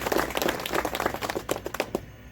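Applause from a gathered crowd at a Republic Day celebration held outside a coal company office in India, a dense burst of clapping lasting about two seconds and then quickly fading out.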